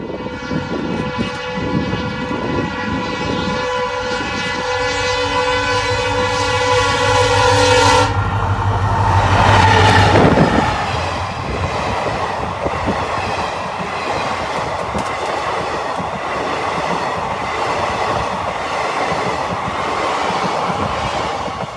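A train rumbles past on the new Gadag–Wadi railway line during a technical trial run, opening with a long, loud horn blast, then steady rolling rattle and clatter of wagons continuing close by.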